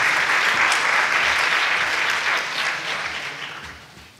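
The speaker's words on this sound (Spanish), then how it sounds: "Le brindamos un fuerte aplauso" Audience applause fills a conference hall at a Chilean respiratory diseases society event, loud and dense from the start, then gradually thinning and fading toward the end.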